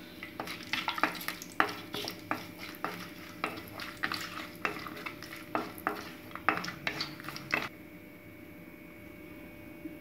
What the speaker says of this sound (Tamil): இதில் ஏலக்காய், கிராம்பு, பட்டை, பிரிஞ்சி இலை எல்லாத்தையும் சேர்த்து வறுத்துக்கலாம்.